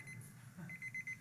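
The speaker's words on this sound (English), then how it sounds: "apparently I've triggered some sort of alarm." An alarm chirps in short, even, high-pitched repeated beeps, faint and somewhat distant, over a low room hum.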